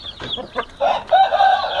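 A rooster and young chicks of fighting stock cluck close by, a few short sharp calls followed by a higher, drawn-out cry, loud and alone without talk.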